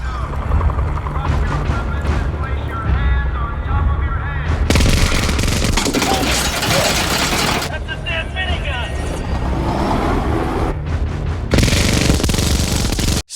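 A money minigun fires in Silksong, a sustained loud rattling barrage that runs nearly continuously, surging in dense bursts over game music and effects.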